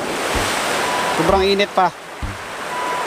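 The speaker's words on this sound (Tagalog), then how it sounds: "Sobrang lakas ng agos ng tubig papasok." A strong current of water pours into a fish pond through its inlet, a continuous loud rushing wash, with someone speaking briefly over it.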